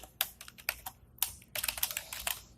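Rapid computer keyboard typing of C++ code, irregular clusters of crisp close keystrokes with brief pauses between bursts, no voices.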